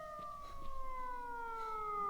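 A siren wails in S.T.A.L.K.E.R.: Shadow of Chernobyl, a steady, slowly falling electronic tone with clear harmonics, moderately distant and heard alone.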